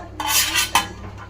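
Serving spoon scraping and clinking against plates as low-polish rice is dished out, a few soft scrapes building to one sharper clink, close and alone.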